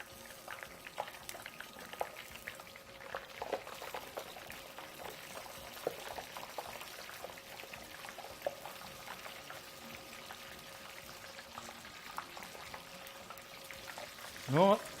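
Chicken pieces fry slowly in medium-hot oil, a soft, steady bubbling crackle with a faint tonal hum running through it and a brief louder burst near the end.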